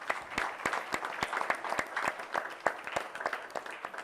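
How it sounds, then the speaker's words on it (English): Moderate, steady applause from the audience at an evening women's achievement event, with individual claps standing out against a continuous patter throughout. "Give them, please, a round of applause."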